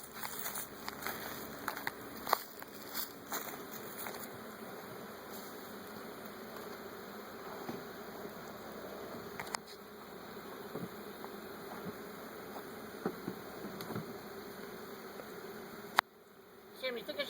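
A swarm of honey bees drones in a continuous, steady buzz close by during a swarm capture outdoors, with occasional faint knocks and rustles and a brief sharp click near the end.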